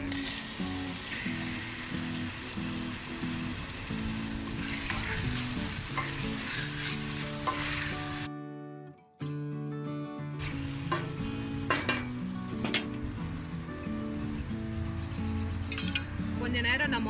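Tomatoes sauté in a pan with a little salt for a pepper crab curry, a continuous loud sizzle with spatula stirring and occasional clinks of utensil on metal, briefly cut off midway before resuming, without speech.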